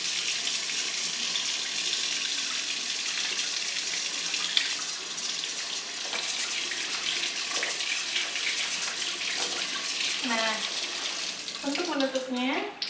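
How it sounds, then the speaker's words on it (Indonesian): Tap water runs steadily into a sink for handwashing, a continuous splashing gush. Near the end, brief voices and clattering sounds break over the flow. "baru kita nyalakan air dan"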